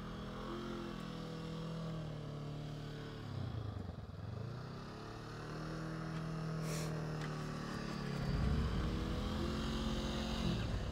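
Motorcycle engine held at high revs during slow-speed riding practice, a continuous droning tone that dips and rises as the throttle shifts, moderately loud with no talk.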